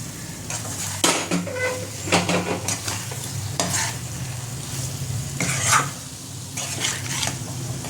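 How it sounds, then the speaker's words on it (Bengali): Potatoes stirred in a pan while frying for a Bengali aloo chingri dish, with repeated metal spoon scrapes and clanks against the pan over a steady close sizzle. "আলুটাকে একটু নেড়ে নেবো আমি"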